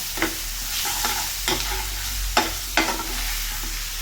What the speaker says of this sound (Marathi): आता हे मस्त मोठ्याच गॅसवर परतवायचं आहे आपल्याला